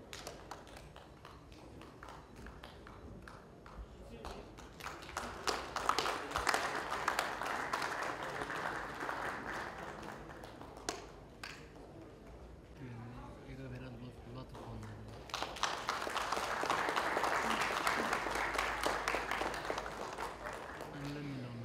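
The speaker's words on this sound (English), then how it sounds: "Let's give a very big round of applause to both the organizing team, NBCERT, and of course the Nepal Data Center Society." An audience at a data center summit certificate ceremony in Nepal gives two swells of applause, separated by a stretch of speech from the stage, all heard at a distance in a large hall.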